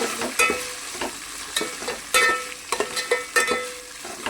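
Curry leaves and onion fry in a pan for sambar with a bright continuous sizzle, broken by repeated scraping stir strokes at an uneven rhythm, close and clear.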